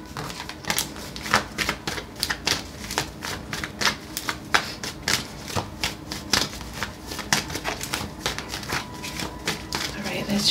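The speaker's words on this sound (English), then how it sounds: "All right, let's shuffle." Tarot cards being shuffled by hand, a steady run of crisp riffling and flicking bursts close up, with quiet talk now and then.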